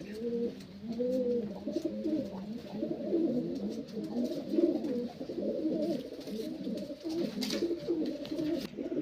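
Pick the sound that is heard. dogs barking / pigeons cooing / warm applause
pigeons cooing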